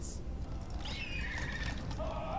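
In the fantasy battle game Total War: Warhammer 2, a flying horse lets out a soft, drawn-out whinny with a falling tone. The sound is faint and heard under low background game noise.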